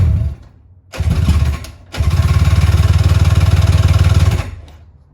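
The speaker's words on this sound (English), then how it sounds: "Let's see if it fires one more time." A 1997 Polaris SLX 1050 jet ski engine cranks in a short burst, pauses, then fires and runs with a loud, throbbing two-stroke pulse for about two and a half seconds before dying away. The engine is close by, with no talk over it.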